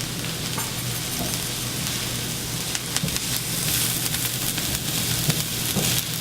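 Spring onions and garlic sizzling in hot oil over medium heat, a steady close crackling hiss with occasional sharper pops, continuous and alone without speech.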